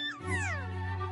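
A cartoon cat gives a single drawn-out meow that slides downward in pitch, clear and close, over a low steady background hum.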